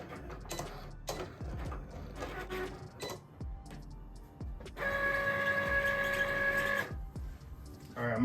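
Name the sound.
vinyl cutting machine cutting puff heat transfer vinyl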